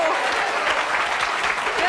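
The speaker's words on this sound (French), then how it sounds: "On peut applaudir Jacqueline hein, et Roland" Studio audience applauding a psychic pendulum demonstration on a French talk show, a dense steady clatter of many clapping hands throughout, with faint talk mixed underneath.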